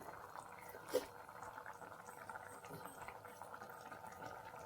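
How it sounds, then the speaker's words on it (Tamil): Omelette gravy simmers quietly in a pot, a faint steady bubbling with one brief louder pop near the start. "இதை ஒரு 5 நிமிஷம் கொதிக்க விடலாம்."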